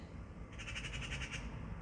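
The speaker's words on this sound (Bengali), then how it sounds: "তো পাখির ডাক শুনরা কি সুন্দর ডাকে" Crows cawing outdoors: a quick run of harsh, evenly spaced calls that rises out of a low, steady background hum and then fades away.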